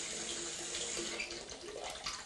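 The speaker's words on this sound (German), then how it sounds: "Ich lasse etwas kühleres Wasser ein." Cooler water runs steadily from a bathtub tap into a bath, a continuous hissing splash with no break and no voices over it.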